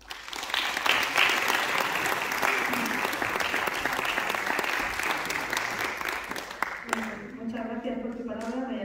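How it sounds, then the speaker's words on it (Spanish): An audience applauds loudly and steadily for several seconds, the clapping tapering as a voice begins speaking near the end. "para quien pido un fuerte aplauso"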